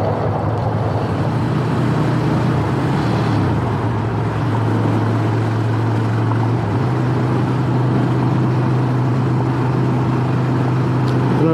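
A Ducati Monster Evo 1100 motorcycle engine rides at low speed across town, a steady low drone with a continuous hum and wind noise that never lets up.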